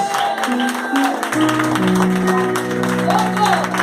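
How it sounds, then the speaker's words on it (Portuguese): Church congregation clapping during a worship service, a dense steady wash of applause beneath sustained organ or keyboard chords and a voice speaking over it. "bata palmas para o Senhor esta noite"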